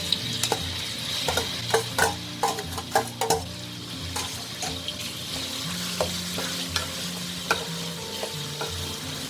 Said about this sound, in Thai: เมื่อน้ำมันเริ่มร้อนนะคะ ใส่เห็ดหอมลงไปเลยค่ะ